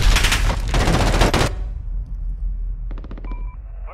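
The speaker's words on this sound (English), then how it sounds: "that M4 with attachments is a dirty, dirty gun" M4 rifle fire in Call of Duty: Modern Warfare comes as loud, rapid automatic bursts for about a second and a half, followed by a few faint electronic game beeps.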